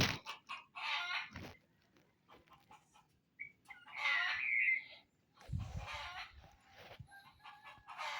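A junglefowl rooster caught with a hen decoy crows twice, loud and close, with clucking in between and other short calls.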